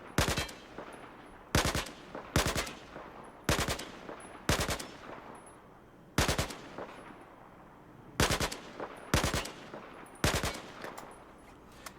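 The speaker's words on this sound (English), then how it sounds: "I'm going to switch over to burst fire." Burst-fire gunshots from a rifle on the Battlefield 4 test range, loud, crisp volleys repeating every one to two seconds over twelve seconds, with no talking.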